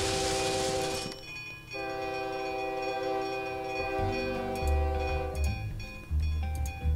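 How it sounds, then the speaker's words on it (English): Fast trains run in the OpenTTD railway simulation game: a steady, loud engine drone carries sustained horn-like tones that shift pitch partway through, with a rumbling low end swelling toward the close and no voices. "We now have a full system of fast trains."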